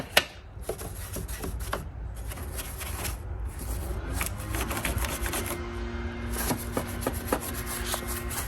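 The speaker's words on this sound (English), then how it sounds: "You just take your brush, just get everywhere, agitate everything." A stiff brush scrubs and agitates cleaner across surfaces in a car engine bay, with close, uneven rasping strokes and rubbing scratches, some sharp brushing bursts and a brief squeaky tone near the end.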